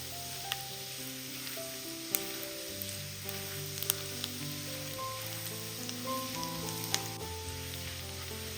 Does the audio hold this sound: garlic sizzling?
yes